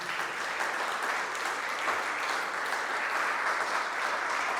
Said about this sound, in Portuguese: dê um aplauso bem lindo para Jesus